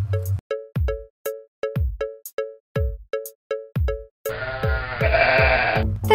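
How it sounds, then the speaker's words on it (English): A Merino ram bleats in a run of short, evenly spaced calls, loud and close, each clipped and alike, followed by a longer, rougher, more sustained stretch of sound. "The Merino ram."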